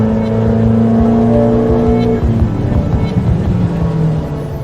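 A 1.6-litre 1600 turbocharged car engine running on 102 octane fuel during a dyno run, a loud sustained roar at high revs that holds steady and then roughens as the load shifts, close up, with no talk over it.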